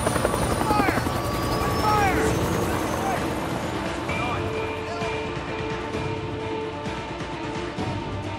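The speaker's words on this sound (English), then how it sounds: "Chopper!" A helicopter in the video game Days Gone thunders overhead, its rotor chop loud and close at first and then fading gradually, with game sounds and voices mixed in.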